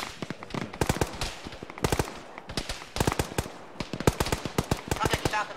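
Rapid automatic gunfire rattles through a military video game in repeated sharp bursts, loud and close, with brief pauses between volleys and faint voices underneath.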